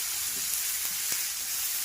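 Tomatoes and cashews sauté in a pan for a hotel-style matar paneer gravy, giving a steady soft sizzle with a couple of faint stirring scrapes, close and quiet with no talk.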